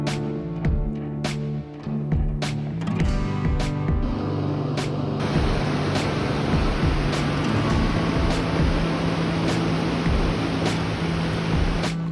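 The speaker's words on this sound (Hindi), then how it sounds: "ये रूपी रायला वाटरफॉल है" Rupi Raila waterfall in Himachal, a high stream pouring down, gives a steady broadband roar of falling water that holds throughout, with a few sharp knocks and bumps early on and no talking.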